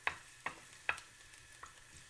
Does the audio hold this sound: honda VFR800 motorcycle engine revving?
no